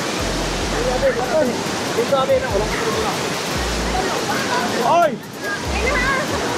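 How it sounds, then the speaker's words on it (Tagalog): Piduan Falls, a wide curtain waterfall, pours with a constant heavy rushing roar, close and loud, while people shout and chatter over the water. "Mani kanindot sa Piduan Falls."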